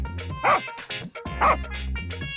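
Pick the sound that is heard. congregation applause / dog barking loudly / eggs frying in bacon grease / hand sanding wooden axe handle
dog barking loudly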